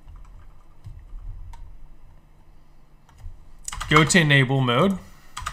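Light clicks of a computer keyboard as CLI commands are typed to configure a Cisco ASA firewall, soft and scattered, followed by someone speaking.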